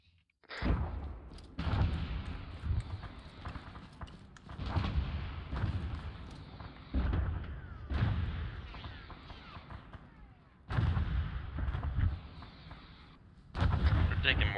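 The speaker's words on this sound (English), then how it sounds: "We're taking mortar fire." Heavy mortar rounds land in a Tanoa video game battle, each impact a loud deep boom followed by a long rumbling tail, arriving every few seconds.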